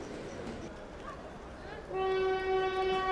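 A passenger train rumbles along its rails, a low steady rolling noise that gives way to a loud sustained horn blast near the end.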